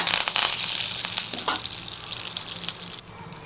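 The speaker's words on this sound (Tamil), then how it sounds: "கடுகு பொரிஞ்சோடனே கருவேப்பிலை ஆட் பண்ணிக்கோங்க." Curry leaves hit hot oil with popping mustard seeds for a Tamil egg gravy, giving a loud, hissing sizzle that runs steadily, then drops off sharply near the end.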